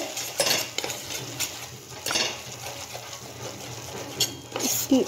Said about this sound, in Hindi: अब इसमें हम अपना मैदा डाल देते हैं तो कंटिन्यू चलाते रहेंगे लो फ्लेम पे